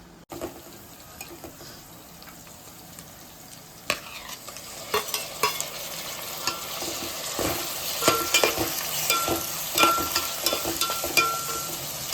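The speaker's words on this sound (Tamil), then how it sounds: "தக்காளி நல்லா வதங்கிட்டு இருக்குது" Chopped tomatoes sautéing in a pan for a fried-fish curry, a continuous sizzle with repeated scraping stirs and clinks that grow busier and louder toward the end; no one speaks.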